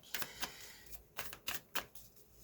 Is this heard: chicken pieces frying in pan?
no